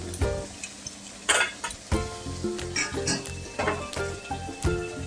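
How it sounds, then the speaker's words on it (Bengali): Mutton curry spatters and sizzles in a hot pan as hot water goes in, with irregular bursts of stirring and the occasional clink of a utensil against the metal, close and steady throughout. "এবার আমি গরম জলটা দিয়ে দেবো।"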